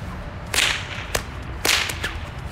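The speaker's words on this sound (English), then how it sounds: "They would crack their whip." Two sharp whip cracks, loud and close, about a second apart with fainter snaps after each, heard alone with no voices.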